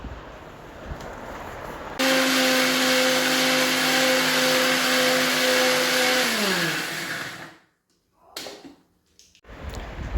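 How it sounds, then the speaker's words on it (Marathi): A kitchen mixer grinder grinds wet masala paste for tandoori chicken, starting abruptly as a loud steady motor whine for about five seconds, then winding down in pitch and stopping, followed by quiet room noise and brief clatter. "आता हे ओलं वाटण मिक्सरला लावूया."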